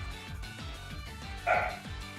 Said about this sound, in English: My dog is going crazy about something.